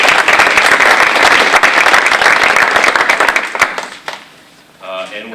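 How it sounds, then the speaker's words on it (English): A crowd at a school board meeting gives a dense round of clapping for a departing member. It is loud and steady for about four seconds, then quickly thins out and stops. "So, one round of applause for Holly."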